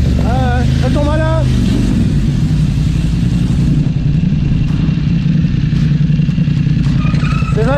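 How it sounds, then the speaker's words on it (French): A loud, steady motor engine rumbles close by throughout, with a voice briefly speaking over it near the start. "Avec votre moteur, je vous entends pas."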